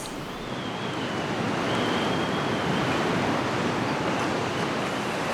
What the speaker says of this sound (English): I've got the sky above my head and the sound of waves in my ears.